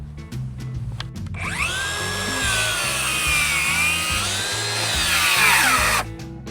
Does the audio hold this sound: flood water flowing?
no